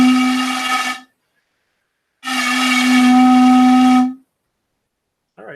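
A 32 centimeter resonance tube in a sound lab giving a steady breathy hooting tone, sounded twice: a short blast, a pause, then a longer sustained one, close and loud.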